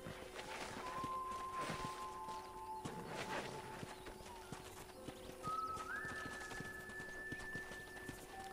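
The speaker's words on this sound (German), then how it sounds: "let's see if you can still ride a horse" Horse hooves clip-clopping in the Western game Red Dead Redemption, steady and fairly faint over ambient game sound, with a couple of thin tonal whistles layered on top.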